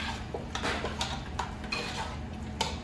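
A spoon scrapes and clinks against a pan while crab risotto is stirred, giving soft, irregular metallic taps over a low, steady kitchen background.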